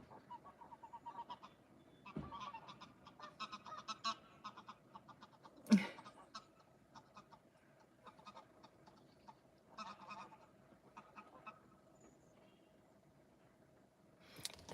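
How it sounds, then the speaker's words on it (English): Geese honking at a car that has just pulled away: scattered, repeated calls with a few louder blasts, moderately close in a quiet outdoor setting. "These geese are just shouting at the car because it made a noise when it pulled away."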